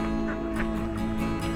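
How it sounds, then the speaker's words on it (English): Ducks quacking in a close, busy flock at the Mere in Ellesmere, England, repeated nasal calls overlapping one another without pause. "There's a lot of ducks here,"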